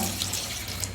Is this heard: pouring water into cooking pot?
yes